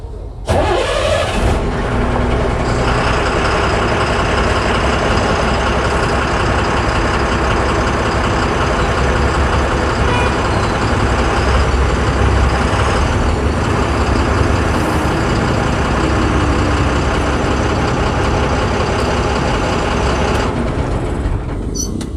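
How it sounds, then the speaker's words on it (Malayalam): A heavy Tata truck diesel engine cranks and catches, then settles into a loud, steady idle with a rough mechanical rumble that continues throughout. "എഞ്ചിൻ സ്റ്റാർട്ട് ചെയ്യുന്ന സൗണ്ട് ഒന്ന് കേട്ടോ."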